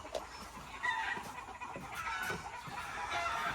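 Game fowl chickens at a gamefarm cluck in short, irregular bursts, several birds nearby, with a brief crow-like call mixed in and no speech.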